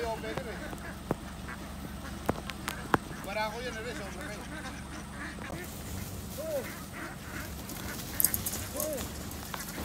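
Laying ducks on a farm quacking in short nasal calls, a few distinct quacks standing out over a steady murmur of flock noise and background rustle, with people talking nearby.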